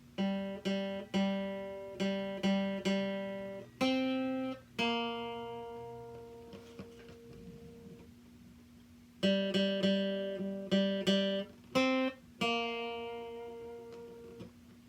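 Solo guitar slowly plucks the opening phrase of the Mandalorian theme, each note ringing clearly in a steady, deliberate rhythm over a sustained low tone, with a short pause mid-phrase before the notes resume.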